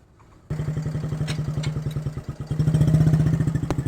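Manual motorcycle ridden on a neighborhood street during practice, its engine starting up abruptly and then running with a rapid, regular chugging pulse that grows louder and stronger as it revs, close and clear.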